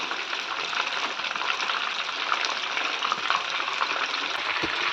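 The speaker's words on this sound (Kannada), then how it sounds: "ಫ್ರೈ ಆಗ್ತಾ ಇದೆ ಫ್ರೈ ಆಗ್ತಾ ಇದೆ" Fish fries in a pan with a dense, even sizzle that holds steady throughout, close and fairly loud, with no voices over it.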